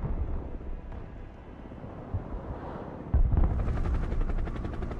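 A military helicopter in the modern real-time strategy game Broken Arrow, heard as a continuous rotor thrum with a sharper, brighter burst of rotor chop and gunfire-like noise partway through.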